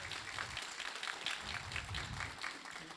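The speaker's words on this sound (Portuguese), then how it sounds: "Muito bem, vamos aplaudir." An audience at a Brazilian panel talk applauds, a soft, continuous spatter of many hands clapping at a moderate distance without a break.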